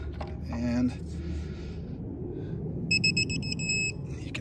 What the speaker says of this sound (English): It goes to the solid tone instead of the beeping.